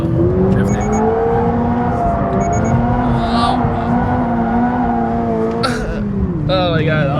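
A 2022 Toyota GR86 sports car drifts through a downhill corner, its engine droning loud and steady with rising, wavering revs, and a burst of tire noise near the end. Excited voices sound faintly underneath.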